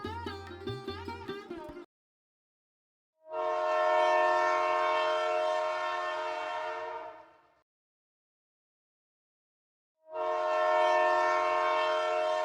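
A train departure effect in a narrated Bengali story: a short burst of musical tones, then two long steam-whistle-like train horn blasts separated by silence, each swelling in and tailing off.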